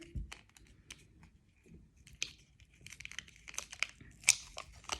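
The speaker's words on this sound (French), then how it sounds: "Donc on va ouvrir l'ampoule." Packaging around a hyaluronic acid ampoule is opened up close: quiet crinkling, tearing and small clicking handling noises in irregular bursts, faint and intimate, with no speech.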